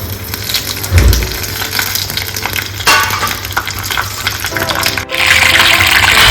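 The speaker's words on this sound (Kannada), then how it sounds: "ತುಪ್ಪಕ್ಕೆ ಈ ಸಾಸಿವೆ ಹಾಕ್ಕೊಳ್ತಿದ್ದೀನಿ." Mustard seeds sizzle and crackle loudly in hot ghee in a pan, a close, continuous frying hiss with a few sharp pops and stirring noises, and a voice speaks briefly over it.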